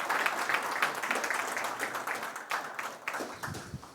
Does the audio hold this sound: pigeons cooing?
no